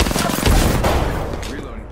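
Rapid automatic gunfire in the Apex Legends video game, a dense continuous burst of shots at close range with a player's voice talking over the top.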